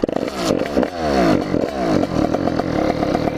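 A 50cc motorcycle engine fires up with a few sputtering pulls, then revs in rising and falling bursts before settling into a rough, close idle.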